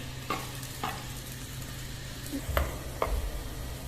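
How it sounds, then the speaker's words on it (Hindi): Chopped onions frying in hot ghee for kadhi pakora, a close steady sizzle broken by a few sharp stirring scrapes and clinks, with no talking. "घी हमारा गर्म हो गया, अभी डाल देते हैं प्याज, 2 अदद प्याज चॉप किए वो। अभी प्याजों को कर लेते हैं ब्राउन।"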